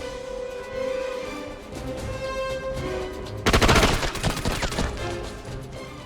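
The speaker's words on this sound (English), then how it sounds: "Enemy spotted. The situation was compromised, so I opened fire." Gunfire rattles out in the PS2 tactical shooter SOCOM, a loud rapid burst of automatic shots after a stretch of quieter in-game ambience with tonal hum.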